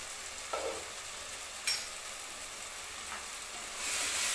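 Onions salted in a pan sizzle steadily under a lid, a close, even frying hiss with a couple of brief stirring scrapes and a louder burst of sizzle near the end.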